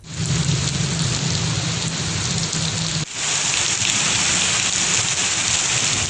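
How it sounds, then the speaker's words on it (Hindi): A May storm with heavy downpour and thunder, a loud, dense, continuous roar of rain with a low rumbling thunder underneath, a brief dip partway through, close and steady throughout. "कहीं फुलवार तो कहीं मूसलाधार बारिश ने माह सयाम को ही ठंडा कर दिया"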